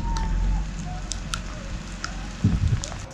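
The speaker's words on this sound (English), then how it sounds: "So it is pretty miserably rainy out." Cold rain falls outdoors at a natural-building site where water is dripping, a steady soft patter with scattered sharp drips and crackles, plus a low rumble and a few thumps.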